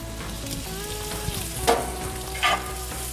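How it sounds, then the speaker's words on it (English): Sliced onion sizzles steadily in a pan of grass-fed butter and Wagyu tallow, a close, continuous fry with two brief louder crackles as the onions are stirred and coated. "get those onions coated,"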